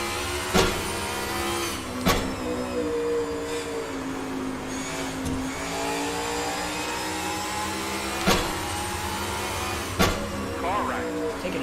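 A NASCAR race car engine in the video game NASCAR 22 at Bristol drones and shifts pitch continuously as the throttle eases and rises, with a few sharp clicks and knocks throughout.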